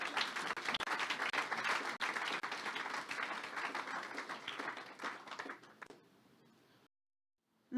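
A church congregation at a Sunday service claims loudly and steadily for about six seconds, a dense crowd clapping that fades quickly and then falls silent.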